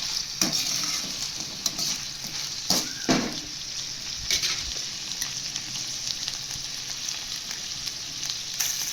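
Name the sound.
stir-frying paneer fried rice in a pan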